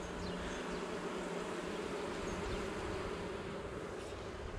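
Honeybee colony humming in a steady, dense drone during a spring hive inspection at an apiary, close and continuous with no talk over it.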